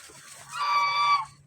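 A single short, nasal honking call comes from a bird at a duck coop on a farm, heard fairly close in quiet surroundings with a low hum beneath.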